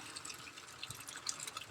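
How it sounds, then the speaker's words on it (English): Tap water running into a bathtub being filled aboard a converted bus, a steady soft splashing rush with faint dripping, heard alone. "Alright, we got the tub filling up with water."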